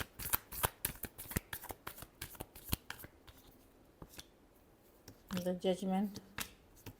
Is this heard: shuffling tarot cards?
yes